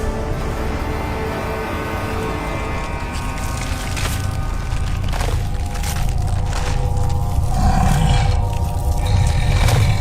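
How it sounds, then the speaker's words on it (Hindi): A loud, sustained roar from the demon king Ravana in an animated Hanuman series, rising in intensity over a dense dramatic music and effects bed, with no speech. "अब ये रावण की दहाड़ सुनेंगे।"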